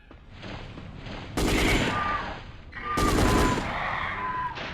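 Gunfire in the video game Dino Crisis 2 comes in two long, loud automatic bursts of rapid shots, each followed by a lingering ring and a quieter spell in between.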